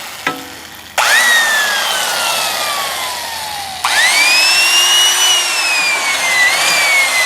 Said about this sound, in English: We got a drill.